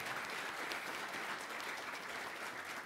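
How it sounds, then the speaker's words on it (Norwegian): Conference audience applauding steadily at the Lerchendal conference in 2014, a dense even wash of many hands clapping, heard a little distant and alone without talk. "Jeg synes de fortjener en applaus."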